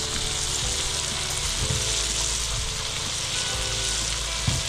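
Fish curry with turmeric and salt bubbles and sizzles in a pan, making a loud, dense, continuous frying hiss with faint low stirring thumps underneath.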